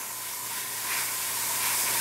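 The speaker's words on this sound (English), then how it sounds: "You can spray the crud out of something and it will still dry flat." Primer sprays from a can onto a 1/48 Tamiya scale model, a steady close hiss that continues without pause for a couple of seconds.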